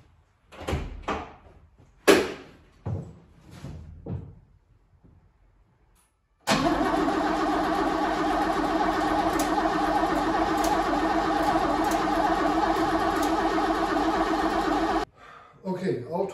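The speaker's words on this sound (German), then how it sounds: "Okay, Auto springt nicht sofort an." A car engine cranks steadily for several seconds without catching, a loud continuous starter whir after a battery replacement, preceded by a few door and handling clunks, then stops abruptly.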